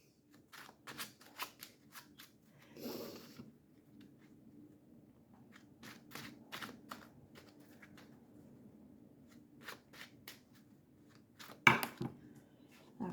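Oracle cards being shuffled by hand, a run of quick papery riffles and taps with short pauses, close and fairly quiet, no talking.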